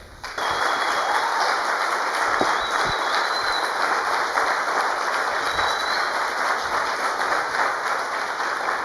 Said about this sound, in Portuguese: Vamos aplaudir de pé.